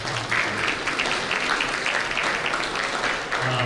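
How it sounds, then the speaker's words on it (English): An audience at a high school athletics awards ceremony claps for the student athletes, a steady wash of applause filling the whole stretch with no pauses. "Let's give them a nice round of applause"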